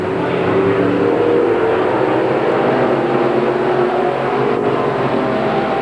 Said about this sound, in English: Good dirt track racing coming up.